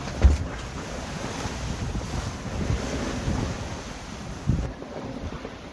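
A sailboat heads south down Malaspina Strait, with a constant rush of wind and waves around the hull, heavy wind buffeting on the microphone, and a few low thumps.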